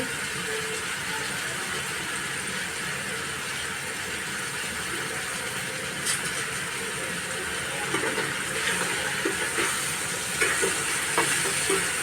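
Malvani masala and salt stirred and sautéed in hot oil give a steady, even sizzle with soft scraping, growing a little busier with a few spoon knocks near the end; no one speaks.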